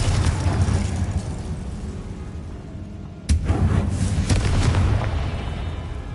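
A Confringo blast spell explodes in the video game Hogwarts Legacy: one loud, sudden booming burst cuts in midway over a steady low rumble, then a rolling, crackling tail of debris.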